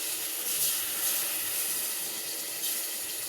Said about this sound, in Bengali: সামান্য পানি ঢালি দিলাম।